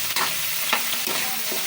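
Food for kaldereta is stirred in a hot cooking pan, a loud close sizzle broken by a few distinct scraping strokes of the spoon.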